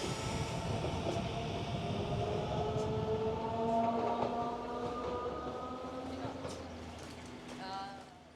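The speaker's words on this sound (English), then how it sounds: "This 3-car train is a much younger upstart." A three-car narrow-gauge train on the Hokusei Line rumbles along with a steady rolling drone and faint clatter, tonal squeals of wheels or motors rising and falling, moderately loud and continuous.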